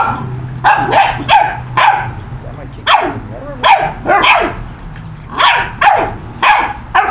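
A dog barks in repeated rough, raspy bursts close by, several clusters of short hoarse barks with brief pauses between them.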